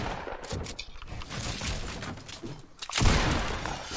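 Gunfire in a shooter video game rattles in bursts of rapid shots, a dense crackling barrage that swells louder toward the end, heard alone without talk.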